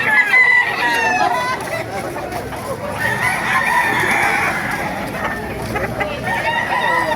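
Roosters crow repeatedly over a busy chicken market in Baliwag, Bulacan, their long calls overlapping amid clucking fowl and a steady crowd murmur, with some people talking nearby.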